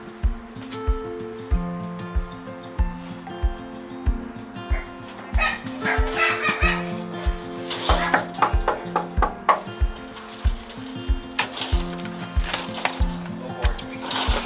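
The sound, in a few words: dogs barking at the doorbell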